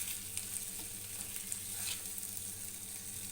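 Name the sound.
fish frying in a pan, being flipped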